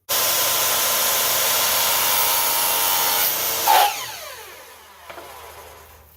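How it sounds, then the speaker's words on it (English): A miter saw cuts wood pieces for a small euchre card box, its motor whining loud and steady for several seconds before a brief bite into the wood and a long falling spin-down. "So miter saw time."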